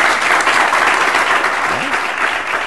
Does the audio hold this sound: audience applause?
yes